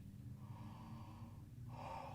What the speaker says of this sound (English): So it's a very low sound breath and relaxed.